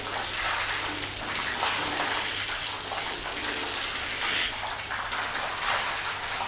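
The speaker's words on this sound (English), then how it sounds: "Hopefully you can see I'm trying to like hold the hose in the camera." A garden hose sprays water over a coated car, a loud, steady broadband hiss and splatter close to the listener that continues without pause, with no voices over it.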